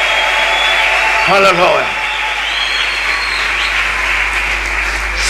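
Loud, sustained applause fills a church as the congregation claps steadily, with a voice briefly calling out over the noise.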